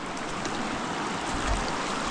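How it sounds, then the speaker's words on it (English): Rushing water from creek rapids at Clifty Falls, Indiana, flows steadily nearby, a dense continuous hiss and burble with no pauses. "Let's see how deep these rapids are."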